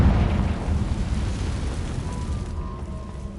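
A rumbling fiery blast from the Confringo fire spell in Hogwarts Legacy fills the clip, a loud sustained roar that slowly fades, with a faint ringing tone near its end and no voices.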